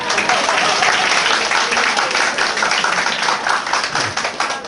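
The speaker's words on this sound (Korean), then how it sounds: "박수 한번 해주세요." A church congregation at a mission gathering in Chiang Mai applauds an interpreter, with dense, steady crowd clapping filling the whole span at fairly loud volume.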